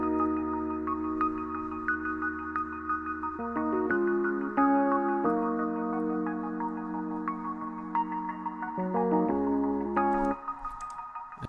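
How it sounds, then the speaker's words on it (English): Plucked melody played on Electra 88 vintage electric piano keys from UAD, layered with Rhodes, with clear sustained notes and chords changing every second or two in a mellow retro groove. "the next thing we have is this pluck melody right here"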